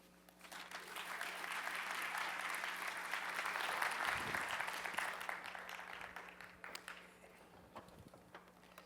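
Steady applause from a conference audience greeting a speaker, sustained for several seconds and then tapering off to scattered claps.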